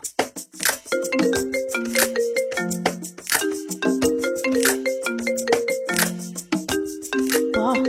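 A melodic phone ringtone plays a repeating pattern of bright tones, steady and close, with clicks and rustling in the background.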